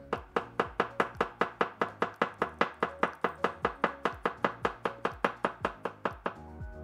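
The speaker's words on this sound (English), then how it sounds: "We are now ready for our slicing and chopping tests for this knife. This is the paring knife." A paring knife from a Zhang Xiao Quan five-piece set slices garlic on a cutting board, producing a steady, fast run of about thirty crisp, evenly spaced chops, close and clear with no talking.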